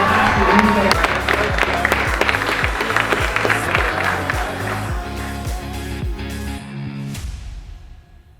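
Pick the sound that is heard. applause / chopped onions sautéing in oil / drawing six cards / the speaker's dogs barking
applause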